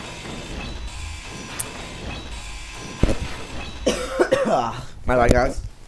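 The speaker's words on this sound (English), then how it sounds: "Coughing again." Several loud coughs from a nearby player during a streamed Space Engineers survival session in space, breaking out over steady background game noise of grinding steel and machinery.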